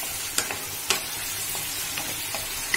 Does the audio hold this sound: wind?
no